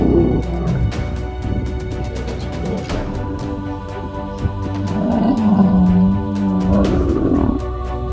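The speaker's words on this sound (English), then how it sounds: "Younger lion felt the wrath of two older males as they tore at each other's body with their claws." Lions fighting in the wild, two older males attacking a younger one, give loud, continuous roars and snarling growls that swell and fade close by.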